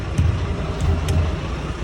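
A truck engine rumbles steadily at low pitch, close by, with a faint rattling hum and no voices.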